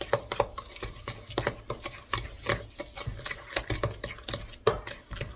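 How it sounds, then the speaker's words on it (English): Sugar being stirred into cookie batter in a bowl, a steady scraping, swishing rhythm of repeated strokes, close and fairly quiet. "and then I'm going to stir it"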